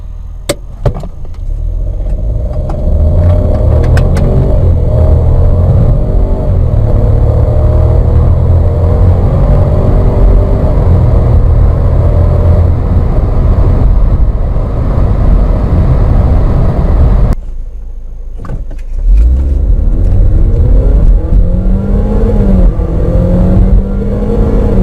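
Cars with a small 1.0 turbo engine and a larger 2.0 engine accelerating hard, a loud sustained engine roar climbing through the gears, with a brief drop around a shift before building again.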